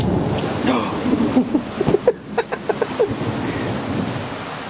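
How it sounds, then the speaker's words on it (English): Heavy rain pours down during a thunderstorm, a steady hiss with low rumbles beneath it, while a person's voice speaks briefly over the downpour. "Go out in the rain or what? Don't go out in the rain."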